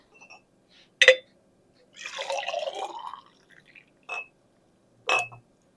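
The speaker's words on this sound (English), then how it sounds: "So I am just pouring some hot water into my jar" Hot water is poured into a glass canning jar for Caribbean-style bean soup, a short splashing fill lasting about a second, framed by a few sharp glassy clinks and drips in an otherwise quiet kitchen.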